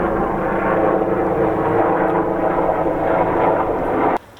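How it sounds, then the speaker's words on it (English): A helicopter passing overhead, a loud steady engine and rotor roar that holds for about four seconds and then cuts off abruptly. "let's wait for that helicopter to pass"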